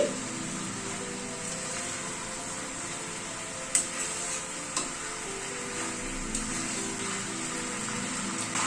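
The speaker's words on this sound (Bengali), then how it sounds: "একবার একটু নেড়ে দিচ্ছি।" Chicken curry with papaya, carrot and black pepper stirred in a pan after cooking covered, a low steady simmer with a few sharp spoon scrapes and clinks spread across the clip.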